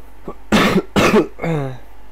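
A single harsh cough bursts out twice in quick succession, close and loud, followed by a short voiced throat-clearing groan.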